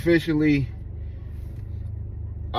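Steady low engine rumble and road noise from inside a car driving out to drop off a Grubhub food delivery, with a person talking briefly at the start before the drive continues under the hum.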